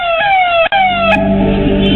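A nearby siren on a red-beacon official car wails steadily for a moment, cuts out briefly, then resumes over a low engine hum that grows as the tone slides down.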